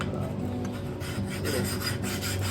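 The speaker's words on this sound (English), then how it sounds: "Use our coarse side on this field sharpener." Coarse side of a field sharpener rasping along the edge of a vintage double bit axe, a continuous gritty scraping with slight strokes, fairly close.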